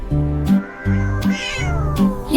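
Cartoonish cat meows in a French kids' song, three or four drawn-out meows in quick succession over a bright musical backing, loud and up front.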